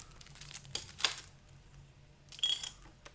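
Plastic card saver crinkles and rustles as a Pokémon card is slid into it during a pack opening, two brief crackly bursts close to the mic with quiet pauses between them.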